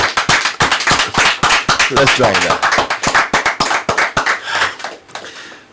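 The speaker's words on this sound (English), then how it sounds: "I want everyone here to clap their hands" An audience claps along in a live radio stream setting, sharp rhythmic hand claps filling the whole stretch, loud and close, with a voice speaking over them before the clapping thins out at the end.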